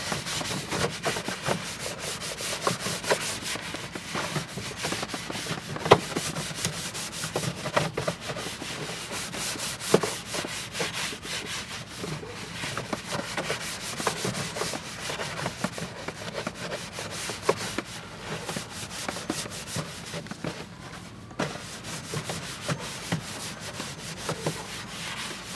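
A stiff detailing brush scrubs a tire on a Jeep 392, making a close, continuous rasping scrub with uneven strokes that rise and fall for about 25 seconds, with no talking.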